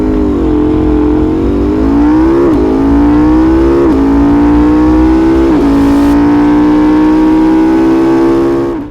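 KTM Duke 790 motorcycle engine revs loud and close, climbing in pitch toward its roughly 10,000 RPM redline through several upshifts with brief dips between gears, a continuous strained howl with no talking.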